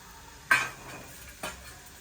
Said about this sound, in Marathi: तेल तप गया है तो इसमें जीरा डाल लो